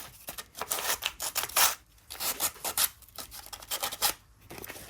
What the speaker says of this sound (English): I'm only scuffing the areas that need painting.